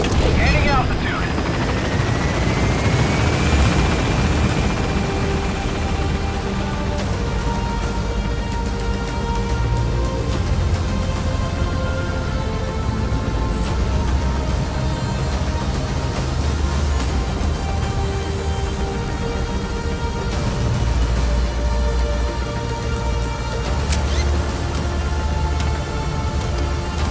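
A helicopter in the Metal Gear Solid video game climbing as it gains altitude, its rotor roar loud and continuous throughout, with a rising whine at the start.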